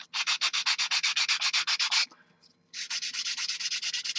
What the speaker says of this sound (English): Sand all these down.